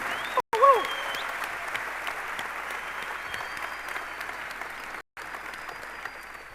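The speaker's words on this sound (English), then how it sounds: "Let's give a huge round of applause to all the organizing committee" An audience applauds the organizing committee at the Royal Antra Olimpia 2016 event, a steady, dense round of clapping sustained throughout, with a brief whistle-like tone near the start.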